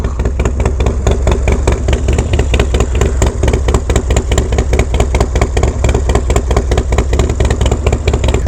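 A Harley-Davidson Dyna Low Rider S V-twin runs loud and close, its throbbing, lumpy exhaust pulsing steadily with revs rising and falling throughout.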